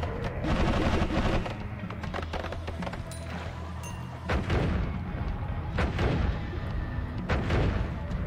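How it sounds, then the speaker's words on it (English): Repeated explosions in the Noita roguelike video game, triggered each time the character takes damage while wading through toxic sludge: dense, overlapping booms and thuds with sharp blasts around the middle and near the end, loud and continuous. "Revenge explosion every time I take damage, so toxic sludge is just turning me into a walking grenade."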